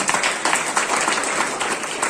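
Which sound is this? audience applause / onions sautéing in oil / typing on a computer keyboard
audience applause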